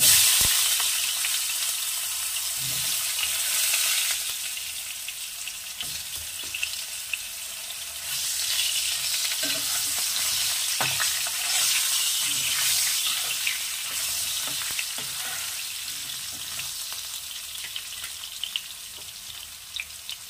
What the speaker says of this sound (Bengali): এবারে আমি একটু 5 ফোড়ন দিয়ে দিচ্ছি, দিয়ে দেব কেটে রাখা আলু